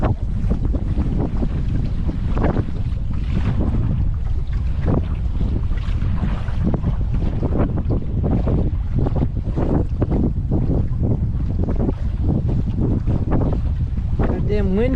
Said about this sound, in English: Goddamn wind could die down